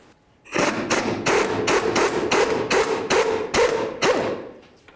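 Rapid series of about eight close, loud metallic impacts, like an impact wrench or hammer working frame bolts loose on a 1994-2004 Chevy S-10 pickup, steady bursts in quick rhythm with no talk.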